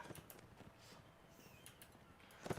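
Horse galloping in the game Mount & Blade Warband, a faint, quick run of clip-clop hoofbeats in a steady rhythm, ending with a slightly louder thud.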